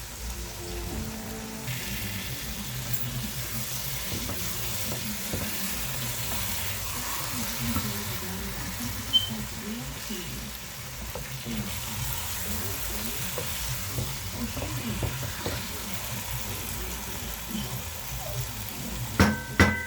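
Red snapper pieces for a spicy Guyanese fish curry sizzle and fry in a pot, with continuous crackling and scattered scraping stirs throughout, and a couple of sharper knocks near the end.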